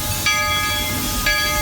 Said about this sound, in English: The train here kind of just goes around the park.